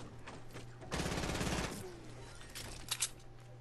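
Gunfire in a video game shooting out glowing blocks, a quick rattling burst of several rapid shots up close, followed by a couple of sharper cracks a moment later.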